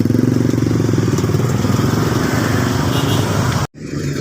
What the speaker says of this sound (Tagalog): Imbis ng tao yung mga dumadaan, wala na, puro motor, tricycle, tsaka sasakyan na.